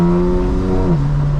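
A 2025 BMW M4 Competition engine revs loudly and steadily, its tone holding high before dropping in pitch as it downshifts, close and alone without talk.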